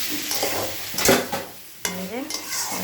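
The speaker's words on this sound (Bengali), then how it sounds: "এটা ভালো করে মারবো" A vegetarian soybean curry with a pinch of sugar is stirred briskly in a pan: scraping, clattering strokes over a low sizzle, in uneven bursts with a short pause near the middle.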